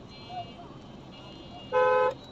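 A car horn sounds in one sharp, close blast during a traffic jam, after a fainter horn earlier. Steady road rumble runs underneath, with faint voices nearby.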